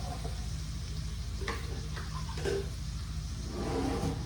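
Marinated prawns stir-fried in a hot pan for prawn thokku, a continuous sizzle with scraping stirring strokes and occasional clatters, steady and fairly close.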